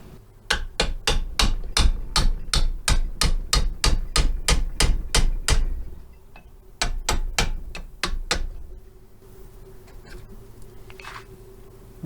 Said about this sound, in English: We're going to take a punch or a little metal chisel here and we're just going to tap that